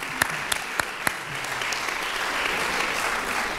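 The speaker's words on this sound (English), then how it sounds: "I'll let her know about that applause." A crowd claps steadily, a broad wash of applause with a few sharp individual claps standing out near the start.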